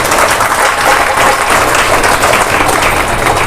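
Loud, sustained applause from a crowd at a Kabir bhajan satsang in Koiripur, honoring the banjo player, a dense steady wash of clapping throughout with no break.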